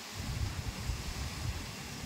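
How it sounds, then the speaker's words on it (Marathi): Strong wind gusts outside a village house during a rainy spell, producing a steady loud rushing roar with low rumbling buffets and no voices. "बघा किती जोराचा वारा सुटला आहे"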